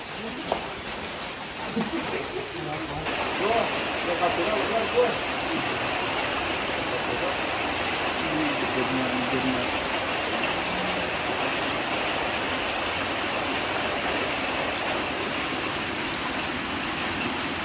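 Heavy rain pouring down during a fishing trip, a dense steady hiss of drops hitting surfaces that builds after the first few seconds and continues loudly to the end.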